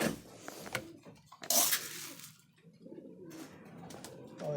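Pet high-flyer pigeons in a breeding setup coo close by, soft throaty rolling calls with a brief rustle or flutter between them and no talking.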